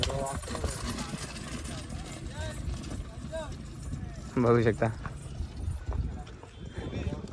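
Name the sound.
horse hooves in a horse and bull cart race round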